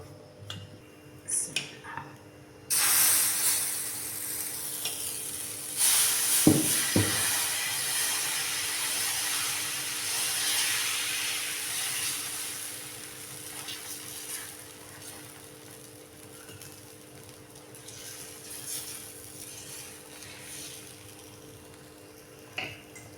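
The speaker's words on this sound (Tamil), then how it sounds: "இப்போ தோசை போட்டுடலாம்" Chickpea dosa batter hits a hot oiled pan with a sustained hiss and crackle, rising sharply a few seconds in and then settling to a steady sizzle, with a couple of brief utensil clinks. No one speaks.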